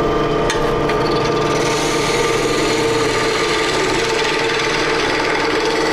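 A wood lathe turns a hollow form, giving a steady, loud, dense scraping and whirring from a tool cutting the spinning wood, continuous and close with no talk.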